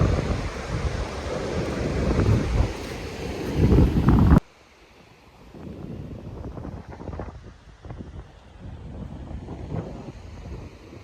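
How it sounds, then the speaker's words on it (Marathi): Sea waves and wind at Dabhol beach on the Konkan coast near Dapoli. A loud, steady roar of surf and wind gusts buffeting the microphone fills the first few seconds, then drops abruptly to a softer, continuous wash of waves. "फायनली आपण दाभोळ बीच समुद्रावर पोचलो"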